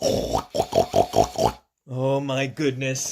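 A voice imitates pigs, making about five quick, snorting oinks in a row, then a short pause and a person speaking an exclamation.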